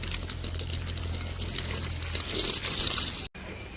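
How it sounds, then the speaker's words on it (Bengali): Water gushes from a hose pipe onto bricks at a village building site, a steady broad splashing pour that runs loud and unbroken before cutting off abruptly near the end. "এই পাশে হইতেছে ওই যে ইটে পানি দিতেছে"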